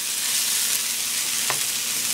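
Tofurky chorizo frying with sauteed potatoes being mixed into the pan, a steady broad sizzle throughout with one brief scrape of the utensil midway; close and even, with no talking.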